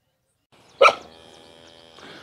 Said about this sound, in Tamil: ஒரு நாய் பாருங்க, என் பண்ணுடைய துணைக்கு பாதுகாப்புக்கு வளர்க்குறேன்